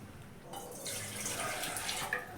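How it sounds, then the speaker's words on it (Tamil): Unboiled milk poured into a pongal pot, which may be clay or silver and is dressed with turmeric, gives a steady liquid rush that swells after a short quiet start and runs continuously, fairly close, with no talk. "காய்ச்சாத பால் தான் ஊற்றணும்"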